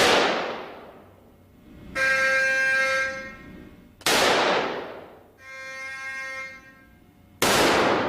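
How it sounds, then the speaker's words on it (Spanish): A mounted barrel fires three special bullets at armored-vehicle test material, each a sharp, loud crack several seconds apart that decays quickly. Two sustained ringing tones fill the gaps between the shots. "El material recibe 3 disparos."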